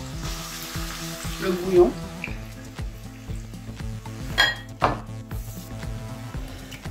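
Mutton sizzles and fries in a pot for a potato stew, a steady crackle with a few louder pops and scrapes, while a voice speaks briefly over it.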